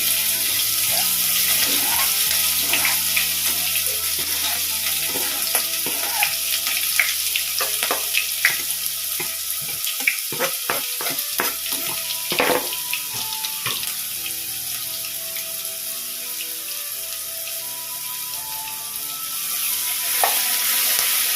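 Chopped onion and garlic sauté in hot oil for a Kerala cauliflower mezhukkupuratti, a constant close sizzle with frequent scraping stirs and light clatter, no voices over it.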